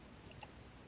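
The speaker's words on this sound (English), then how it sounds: "I'm going to click on that" Two quick, light clicks of a computer mouse about a sixth of a second apart, close and crisp against a quiet room.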